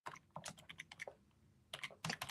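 Quick bursts of keystrokes on a computer keyboard, soft and close, with a short pause in the middle before the typing picks up again.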